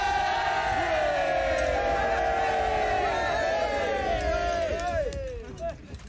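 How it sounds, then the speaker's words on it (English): Crowd of soldiers in a trench giving a big cheer, a loud massed shout of many voices with rising and falling yells that fades toward the end. "big cheer!"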